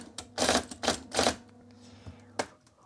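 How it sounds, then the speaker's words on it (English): An IBM Selectric electric typewriter clattering as keys are struck, several quick bursts of mechanical typing followed by a pause and a final sharp strike, close up over the machine's low running hum. "Switch the typewriter on and start"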